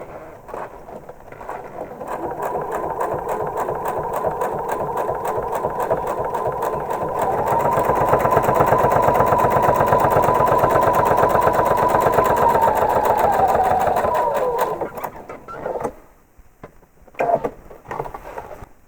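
Sewing machine running continuously while stay stitching along the folded edge of a quilt's facing, a fast steady whirring hum that intensifies midway, then stops with a few short bursts at the end.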